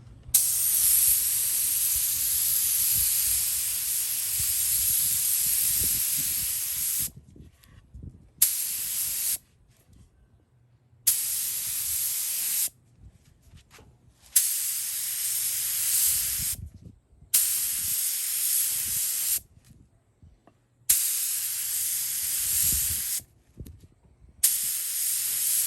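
Airbrush spray of candy paint in wet coats on a model car body, a steady close hiss in repeated bursts of a few seconds each, with short silent gaps between passes.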